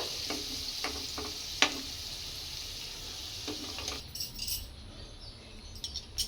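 Potatoes frying in oil in a pan for a pangas fish curry, with a soft continuous sizzle and a few light clinks and scrapes of a utensil stirring nearby.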